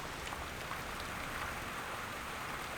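Steady heavy rain falling in a natural outdoor setting, a continuous even hiss of drops with no pauses, heard alone at a fairly faint level.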